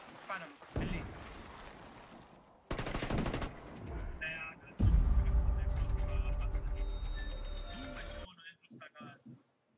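Loud bursts of sniper gunfire in an Xbox One S video game match, one sharp shot then sustained rapid firing, with people talking in Italian over the action.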